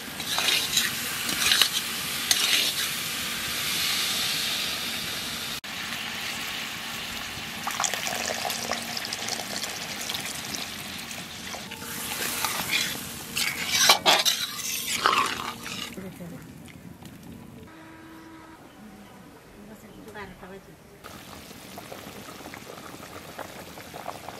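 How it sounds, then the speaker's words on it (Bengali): A big river katla fish curry with potatoes is stirred in a pan, with uneven scraping, bubbling and sloshing that grows quieter toward the end, while people talk over it. "আলু দিয়ে একটু নাড়াচাড়া দিছি, এখানে জল দিয়ে দেবো"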